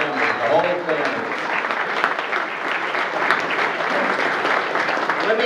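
Crowd at a councilman's inauguration clapping for a family, sustained applause with a voice speaking over it at the start.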